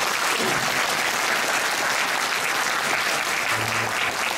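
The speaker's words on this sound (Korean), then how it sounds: "박수 한번 주세요." An audience at a high school debate final claps loudly and continuously, a thick even roar of hands with no pauses, a brief low hum rising near the end.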